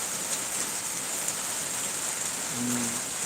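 Rain falls steadily outdoors near a roadside waiting shelter, forming a constant, even hiss at moderate loudness. A brief low hum enters near the end, and no voices are heard.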